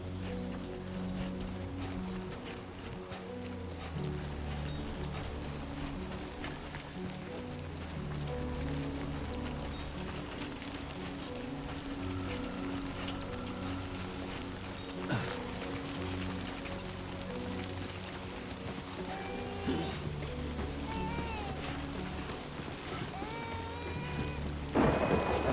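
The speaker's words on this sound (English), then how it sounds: "Great. Rain. Gotta move." Steady heavy rain pours down with deep rolling thunder in the video game Death Stranding 2, a continuous dense wash with low rumbles and a sharper crack near the end.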